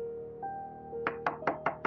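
Five sharp knocks on a door in rapid succession, loud and close, following a steady tonal hum in an indoor room.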